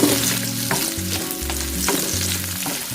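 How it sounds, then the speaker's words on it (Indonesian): Eggplant stir-fries in a pan with a constant loud sizzle, broken by scraping stirring strokes, while a low hum runs underneath. "kita masukkan terongnya, masak oseng ya"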